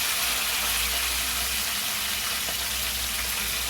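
Cumin seeds, a sprig of curry leaves and three green chilies sizzle in hot oil for an ivy gourd fry, giving a steady, dense crackling hiss from start to finish with no talking.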